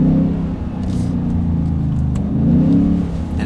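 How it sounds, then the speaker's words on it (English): A big V8 truck engine revs through downshifts with a deep, throaty rumble that swells and eases in waves, loud and close with no talk. "it sounds just like a big V8 should"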